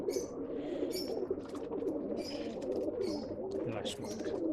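A male racing pigeon of a Bangalore breeding line coos in repeated low, throaty phrases close by, with chirps and other birds in the loft, under someone talking.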